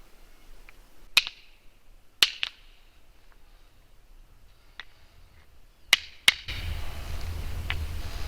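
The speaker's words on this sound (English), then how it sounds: "I'll do the rock clacks first" Rocks clacked together outdoors make several sharp, isolated clicks in a quiet setting, some coming in quick pairs, and steady background noise swells near the end.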